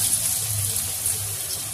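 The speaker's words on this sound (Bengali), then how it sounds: "চিকেন মালাই টিক্কাগুলো ভাজার জন্য সাদা তেল ভালো করে গরম করে নিয়েছি" Pieces of chicken malai tikka fry in well-heated white oil, giving a steady, close, unbroken sizzling hiss with no voices.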